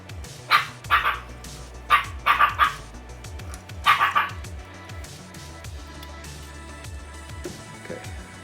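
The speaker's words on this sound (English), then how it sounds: "if y'all hear him barking, that's what he's barking at" A dog barks in several short bursts of two or three, fairly close, with pauses between, over low background noise of strong wind.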